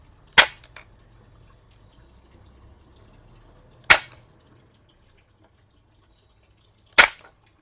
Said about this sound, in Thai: ประสิทธิภาพ นะครับของเครื่องยิงตะปูไฟฟ้าอันนี้ไปแล้วนะครับ